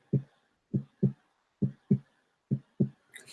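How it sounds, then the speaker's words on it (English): Heartbeat sound effect: deep, thudding double beats in a steady lub-dub rhythm, several pairs in a row, loud and close with silence between them. "Almost need like a heartbeat."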